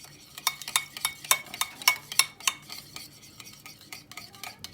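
A spoon stirring a vegetable stew seasoned with chili flakes and thyme in a pot, producing a quick run of light clinks and scrapes that soften toward the end, close and moderately quiet.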